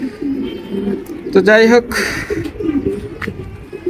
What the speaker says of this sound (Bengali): আর একটা ছাদে এসে অলরেডি ঘুরতেছে মাদি কবুতর